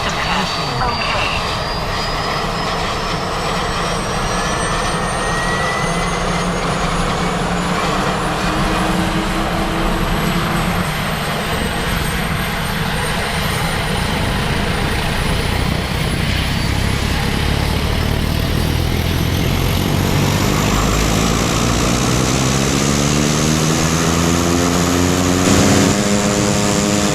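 A Piper M600 turboprop engine during its run-up: a loud, constant propeller-and-turbine drone that swells near the end, with rising tonal sweeps over it and faint voices partly buried beneath.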